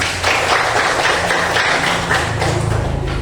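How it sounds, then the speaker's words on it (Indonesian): Students in a classroom applaud, a dense continuous patter of clapping at moderate loudness, with a low hum and some thumps underneath. "Tepuk tangan."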